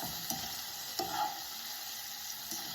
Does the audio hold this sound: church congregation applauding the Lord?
no